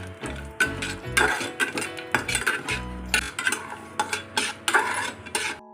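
Almonds roast in a little ghee while a spoon stirs and scrapes the pan in uneven bursts of clattering knocks over a faint sizzle. No one speaks.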